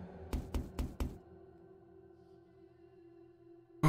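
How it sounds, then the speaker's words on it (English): Four heavy bangs on a door, evenly spaced and close, from the video game The House in Fata Morgana, followed by a low sustained drone. "I mustered up what meager strength I had left to bang on the door"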